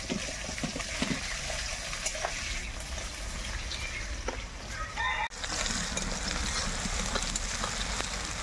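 Chopped onions hit hot spiced oil and fry with a steady, loud sizzle and crackle, with a rooster crowing nearby in the background.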